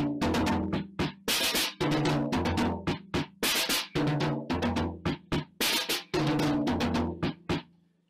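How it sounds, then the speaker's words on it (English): Four hand drums played in rapid, speech-like phrases with varied tones and pauses, loud and close, no talking. "or I can actually have a conversation with all four drums, which sounds like this"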